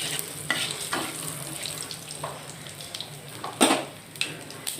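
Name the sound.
bay leaves and dried red chilies sizzling in hot oil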